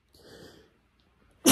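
A man sneezes once, loud and close at the very end, after a soft breathy intake, with allergies given as the cause.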